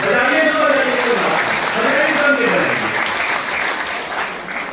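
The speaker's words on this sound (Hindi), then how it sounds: "तालियां कमजोर लग रहा है" A crowd claps at a rally of employees and teachers over pension demands, a broad, fairly loud wash of applause that slowly thins out, with a voice speaking over it.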